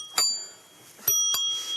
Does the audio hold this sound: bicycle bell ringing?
yes